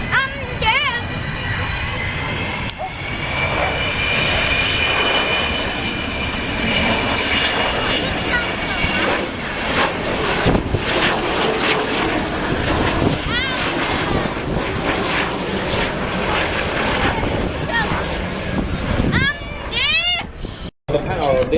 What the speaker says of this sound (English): The power of the aircraft's four Rolls-Royce Bristol Olympus 202 turbojets